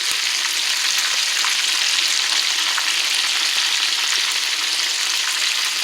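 Chicken drumettes fry in hot grease with a loud, constant sizzle, sharp pops and spits scattered throughout, close up and with no talking.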